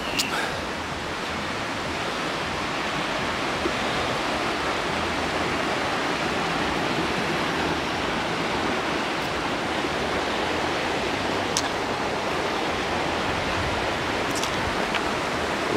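Clear glacier meltwater stream in the mountains of Arkhyz at Sofia Glade rushes steadily and loudly throughout, a dense broadband wash of water with no pauses and no voices.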